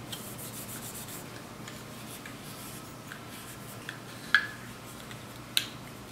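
A cloth wipes down the lower frame of a service pistol during cleaning, giving soft, continuous rubbing close by, with two small sharp clicks late on and no talking.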